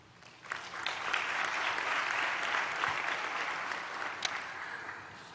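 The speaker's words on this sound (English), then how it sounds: "please applaud those you have invited to share this moment with you" A graduation ceremony audience at Nelson Mandela University in Gqeberha breaks into applause, a dense, sustained clapping that swells quickly and holds steady across the hall, heard from a distance without speech.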